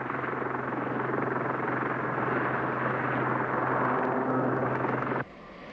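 A large military helicopter towing a Mark 166 magnetic influence minesweeping sledge drones steadily with a loud, constant rotor and engine roar, holding level before cutting off abruptly near the end.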